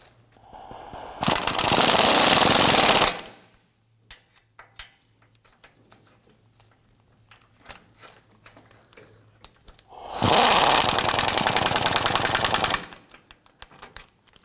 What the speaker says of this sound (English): Let's go ahead and tighten the forward control arm bolts.